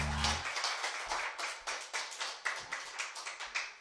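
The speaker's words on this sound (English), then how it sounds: "Let's give them a round of applause" Audience applause for a band at a riverside music session, a crowd clapping steadily in a dense, moderately loud patter with some sharper individual claps, following a brief low musical tail at the start.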